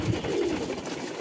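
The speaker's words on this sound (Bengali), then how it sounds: "এই 2 খাঁচা হচ্ছে পাঠা কবুতরগুলা" Caged pigeons give a brief, low, murmuring coo, steady and close, with no voices.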